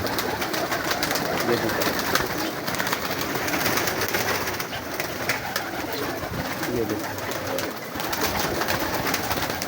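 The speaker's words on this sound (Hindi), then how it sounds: "ये कबूतर हैं।" Steady chorus of pigeons cooing and fluttering close by, continuous and busy throughout, with a voice briefly speaking over it.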